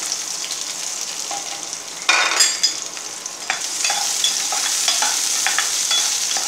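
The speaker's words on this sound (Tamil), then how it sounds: "கொஞ்சம் எண்ணெய் காயவும் ஆனியன் போட்டுக்கிடுவோம்," Chopped onions and chilli sizzle in hot oil for a Tamil-style tripe fry, a loud, continuous crackle that swells when ingredients drop in, punctuated by scraping stirs of a ladle, close up with no talk.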